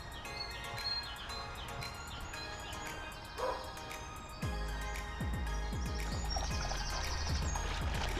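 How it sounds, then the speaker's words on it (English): A terrier barks repeatedly in short sharp yaps, fairly close, with birds chirping in the background of an outdoor setting. "As soon as Sandy barks, we can go again"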